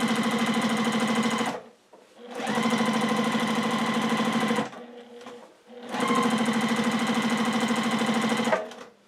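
A sewing machine stitches straight lines during free-motion quilting at about half speed, running in three loud, steady bursts of rapid mechanical whirring separated by short pauses.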